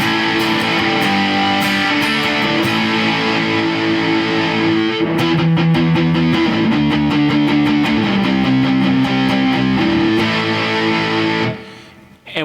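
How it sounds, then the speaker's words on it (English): Electric guitar played through a clean boost feeding a 427 distortion pedal, giving a thick, heavily saturated tone; strummed chords and sustained notes ring loud and continuous before cutting off abruptly near the end. "we're getting into like a really saturated, you know, just a great distortion sound"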